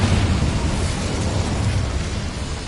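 The Incendio fire spell goes off inside a small mine in Hogwarts Legacy with a short, loud, roaring burst of flame that rumbles and crackles evenly for a few seconds, with no voices over it.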